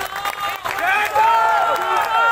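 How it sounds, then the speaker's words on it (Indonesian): An audience at an Islamic religious gathering in an Indonesian village, applauding the chairman, with clapping and crowd noise swelling after a brief pause while voices and whistle-like tones ring over it. "Tepuk tangan untuk Ketua Umum kita."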